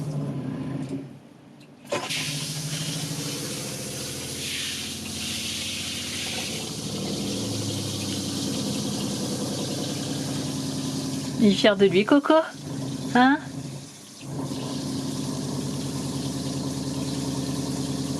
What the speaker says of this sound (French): Ah, elle est bien la pompe parce qu'on dirait elle régule un peu.